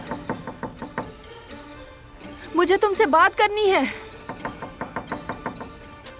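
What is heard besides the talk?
knocking on a door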